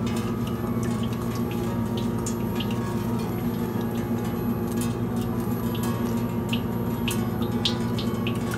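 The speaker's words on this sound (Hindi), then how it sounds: "अब इस तरह से इसका पानी निकाल देना है।" Water draining off freshly made paneer in a home kitchen, a steady trickling and splashing with scattered drips, constant and fairly close, with no talk.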